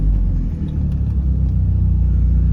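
A car engine idles steadily at close range, a continuous low rumble with a slight uneven pulse and no voices over it.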